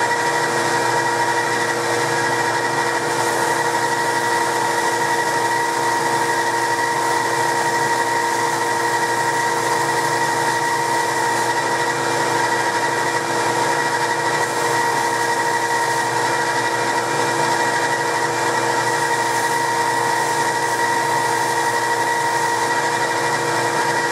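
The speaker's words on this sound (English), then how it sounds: "Let me turn on my shop vac here." A shop vacuum runs steadily throughout, a constant whining motor hum with a strong tonal drone and no pauses or talk.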